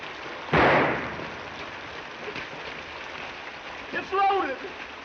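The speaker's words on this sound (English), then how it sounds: "Well, stop the rain! Stop the rain!" Rain effect during a staged comedy battle scene, a steady hiss of falling rain throughout, with a voice shouting over it early on and another voice speaking near the end.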